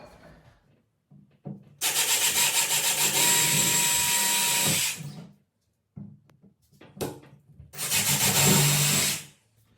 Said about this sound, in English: So let's get the holes drilled.